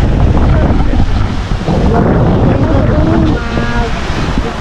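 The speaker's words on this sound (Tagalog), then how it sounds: "Ang lakas ng hangin dito." Strong wind roars steadily across an open microphone at Bulabog Beach on Boracay, blending with surf noise in a loud, continuous rush, with faint voices underneath.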